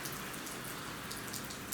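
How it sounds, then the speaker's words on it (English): Steady rain falling under a low cloud over hills above a town, an even hiss of drops pattering on surfaces throughout, close and moderately quiet with no voices. "the rain's going to be getting heavier as it gets closer."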